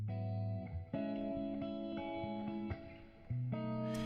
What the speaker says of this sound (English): this is a micro shift just specifically for the electric guitar.